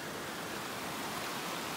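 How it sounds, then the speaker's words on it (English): Loud, steady rush of a creek flowing along Fiddle Pass near Jasper National Park, a dense broadband roar that fills the short moment with no voices. "The creek."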